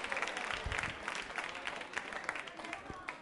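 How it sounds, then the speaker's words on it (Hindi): A quiz show audience at a Diwali music event breaks into sustained applause, dense steady clapping throughout with a voice talking over it. "जोरदार तालियां बजनी चाहिए"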